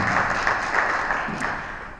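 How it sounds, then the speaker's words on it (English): Brief audience applause at the opening of a safety net programme launch event, a soft dense patter of clapping that fades slightly toward the end. "A big clap again."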